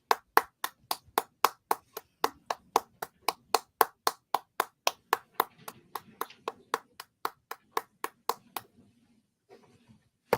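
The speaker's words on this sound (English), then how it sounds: "clap for this jury." Rhythmic clapping fills a courtroom as people applaud the jury, roughly two dozen evenly spaced claps at a steady beat, with faint murmuring beneath that fades out as the clapping stops near the end.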